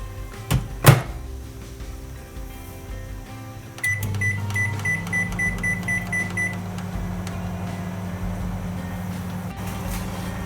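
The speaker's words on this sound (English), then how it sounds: "Now we're going to put it in the microwave for 10 minutes." A microwave oven hums steadily after a door thunk and button beeps, its low drone continuing evenly and close by.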